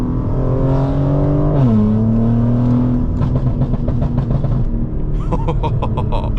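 A loud BMW G82 M4 engine drones steadily, its pitch dropping as it eases off, then a rapid run of crackling pops and burbles from the exhaust.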